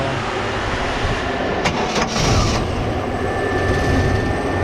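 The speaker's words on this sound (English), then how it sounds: "I'll go ahead and get in the truck and fire that up so you can hear it" 1951 Chevrolet 3100 rat rod pickup on an S10 subframe starting up: a steady loud background, brief sharp cranking bursts, then the engine catching into a fuller low rumble that settles into a smooth idle.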